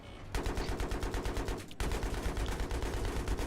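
Rapid automatic gunfire from Battlefield 3 Conquest on Tehran Highway, loud and close, with steady bursts of shots and a short pause near the middle before firing resumes.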